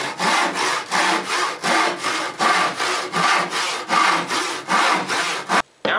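A hand saw cuts through wood with strong, even back-and-forth strokes about twice a second, loud and close, as bulk material is removed just shy of a marked knife line; no voices.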